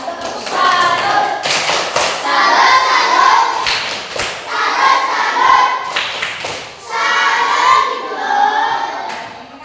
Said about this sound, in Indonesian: Tepuk salut dulu untuk kelompok satu.